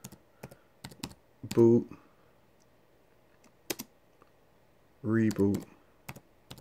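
Quick keystrokes type a command on a computer keyboard as scattered sharp clicks. Two short spoken words come between bursts of typing.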